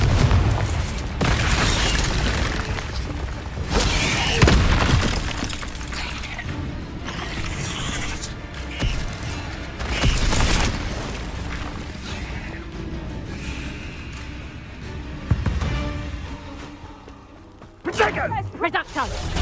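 Confringo explosion spells cast in combat in Hogwarts Legacy on PS5, with repeated loud booms and blasts over dense game sound, shouted spell incantations, and clanking mechanical effects.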